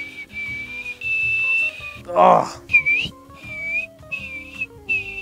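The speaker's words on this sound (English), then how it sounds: "every time I get that little whistle" Someone practises a loud whistle, sounding several sustained high whistled tones in bursts, with a spoken exclamation and other noise breaking in partway through.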